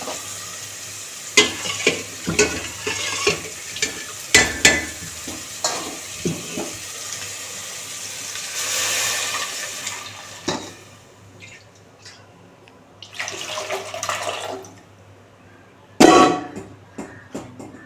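Lentil water is poured into a pan of sautéed onions and tomatoes, bringing hissing sizzles, spoon scrapes and metallic clanks, with a burst of frying noise late on.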